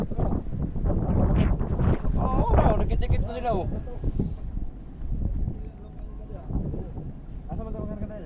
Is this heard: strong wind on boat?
yes